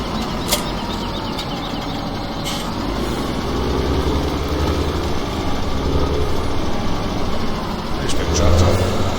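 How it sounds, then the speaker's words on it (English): A steady engine drone rumbles throughout from a large tractor in Farming Simulator 17, with a voice talking over it and the engine swelling near the end. "Hopefully the volume of the tractor isn't too loud."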